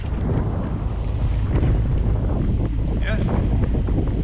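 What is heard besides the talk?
wind blowing over a sailboat between Bequia and St Vincent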